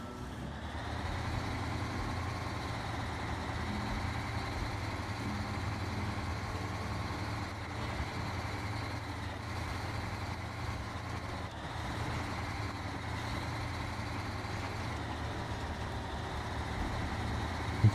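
A cabover truck hauling a trailer through the Washington map in Snowrunner gives off a low, steady engine drone that holds at the same level throughout, fairly quiet, with no speech.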